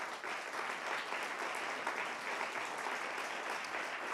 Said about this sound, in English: Big round of applause for the technical.